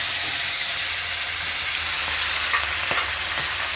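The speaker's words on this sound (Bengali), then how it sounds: "মাছ ভাজা বসিয়ে দিলাম।" Tilapia fish fries in hot oil with a loud, constant hiss and crackle, close up, with a few faint clicks of a utensil and no voices.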